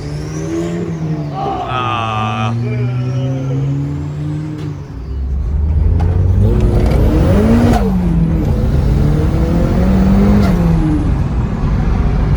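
Turbocharged Mazda Miata engine revving hard, pitch sweeping up and down through several loud pulls, close and continuous over about twelve seconds.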